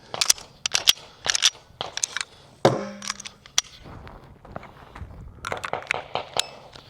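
Handgun shots fired off the draw on a shooting range, several sharp loud cracks spaced apart with a brief ringing echo, and no talking.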